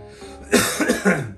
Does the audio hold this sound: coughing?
yes